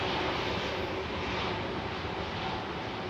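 A loud, steady roar of an aircraft engine at London Heathrow, holding an even level for the whole stretch with no break.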